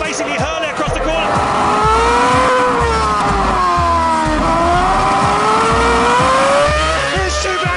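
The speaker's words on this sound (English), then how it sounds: "Here's Schumacher right off the back of Alonso across the line" Formula One race cars at the Turkish Grand Prix scream past in a sustained, loud engine wail that rises and falls in pitch, with a commentator talking excitedly over the racing.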